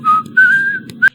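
A person whistles a clear melodic tune in three phrases, two sustained notes and a short rising blip at the end, loud and close over a low background murmur.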